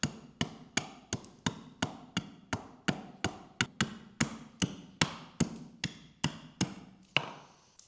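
An axe chops into wood being carved, about eighteen sharp, close blows landing in a steady, even rhythm, each with a short woody ring.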